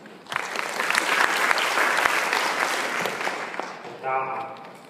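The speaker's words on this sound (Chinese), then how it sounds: "那让我们掌声欢迎大东小姐" An audience at a PHP conference talk claps to welcome a speaker, dense sustained applause swelling then thinning over a few seconds, with a voice briefly audible near the end.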